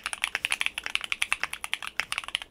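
Rapid typing on a Bakeneko 60 keyboard from CannonKeys fitted with Gateron Baby Kangaroo switches, giving a steady run of crisp, close keystrokes at a quick, slightly uneven rhythm with no talking.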